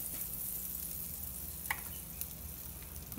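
A sandwich sizzles steadily in a pan with margarine, a soft continuous crackle with a couple of faint pops, with no talking.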